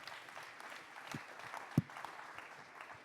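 An audience at the closing ceremony of a global water-utilities congress gives faint, distant applause, a soft continuous patter with one brief sharper clap near the middle.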